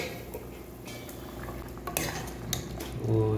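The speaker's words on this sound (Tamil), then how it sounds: "ஸோ நண்பா மூடி எடுக்கலாம்." A metal lid clinks and scrapes as it comes off a pot of simmering Hyderabadi beef curry, with a few light clanks over a quiet kitchen hiss.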